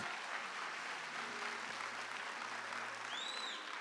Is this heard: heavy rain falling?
no